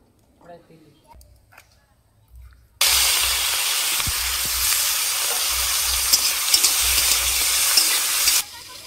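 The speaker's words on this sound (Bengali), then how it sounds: "কড়া গরম হয়ে গেছে, হালকা করে চিংড়ি মাছটা আমি নেড়ে নেব" Shrimp is stirred in a hot kadai for a chalkumro-leaf bati chorchori. After a few quiet seconds with faint talk, a loud, steady frying sizzle bursts in close by and holds until just before the end.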